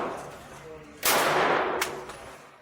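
A single Ruger Mark IV Lite pistol shot at a shooting range, a sharp loud crack with a short ringing tail, followed by a fainter second report.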